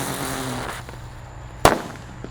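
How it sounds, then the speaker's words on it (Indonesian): A red traditor firecracker goes off with one sharp, loud bang after a quiet moment, then a short fading tail. "Di sini ada mercon traditor yang warna merah. Kita lihat reaksinya. Sudah menyala."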